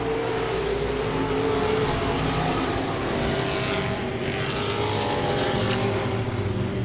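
Modified race cars roaring around Langley Speedway, with a dense, continuous engine drone from several cars racing close together, loud and steady with slight pitch shifts as they pass.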